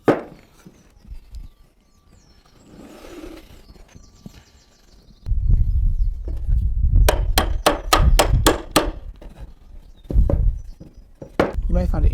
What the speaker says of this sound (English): I'm going to gently tap the nail until it is seated in the timber